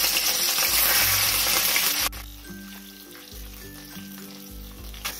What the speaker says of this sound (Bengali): এবার আমি মাছগুলো দিয়ে লাল লাল করে ভেজে তুলে নেব।